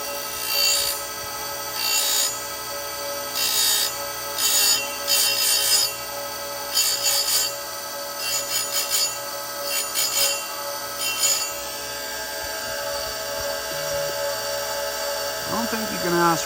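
Oregon 410-120 chain grinder fitted with a CBN wheel sharpening a saw chain: a steady motor whine broken by repeated bursts of high grinding as each tooth is dressed, close and loud, with a rising squeal near the end.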